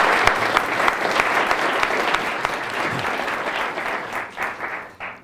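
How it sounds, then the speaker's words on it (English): Audience applause for a speaker who has just been introduced at a lecture event, dense steady clapping close and loud for about five seconds, thinning out at the very end. "Let's give him a round of applause."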